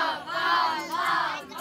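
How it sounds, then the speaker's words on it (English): A crowd cheering for a cicada named Chloe in a mock cicada race, voices shouting together in a rising, chant-like swell, loud and close. "Okay, Team Chloe. Start cheering."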